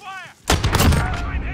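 Gunfire erupts in a shooter video game, a sudden loud burst of rapid shots that starts abruptly after a brief quiet electronic tone, close and dense with no talk over it.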